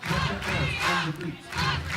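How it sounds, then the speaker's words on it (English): Arena crowd at a FIBA 3x3 World Tour Masters basketball quarter-final in Montreal roars in two loud surges of cheering and shouting, with a brief lull between them. "The crowd is in it."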